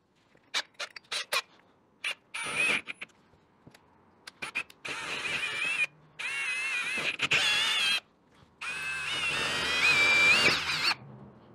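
Power drill boring a hole with a full-size bit while installing rod buckle straps, heard as several short close bursts of whirring and grinding, then longer sustained runs with brief pauses between them, no talk.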